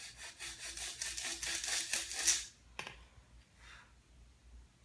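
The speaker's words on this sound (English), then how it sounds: "A little bit of sanding." Close, quiet rhythmic rubbing of sandpaper on a wooden model rudder part in quick back-and-forth strokes, stopping after about two seconds, followed by a few faint scrapes.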